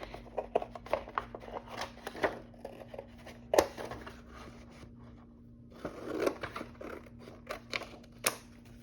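Scissors cut through a manila file folder in short crisp snips and rustles, with a few sharper clicks among quiet paper handling, close and fairly soft, with no talk.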